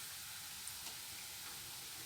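Onions frying in a pan for a coconut curry give a faint, even sizzle that holds steady throughout, with no talk.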